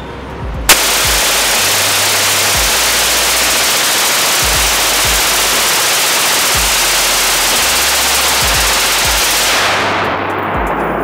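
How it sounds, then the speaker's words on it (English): Full-auto .50 BMG Quadzilla rifle fired indoors, a loud, sustained roar of rapid gunfire filling nearly the whole stretch with a dense, saturated wash, beginning abruptly and ending near the close. "I was actually in the room then when they were shooting the 50 BMG some more."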